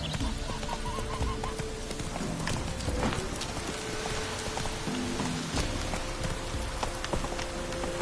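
Horse hooves galloping in a video game, a continuous rapid clip-clop under a dense, rain-like wash of other game noise, moderately loud throughout.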